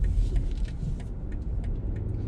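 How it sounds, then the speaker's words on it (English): Cars pass steadily along a road, a continuous close rumble of engines and tyres with no break, heard from a waiting car about to turn right. "So wait for these cars to go past"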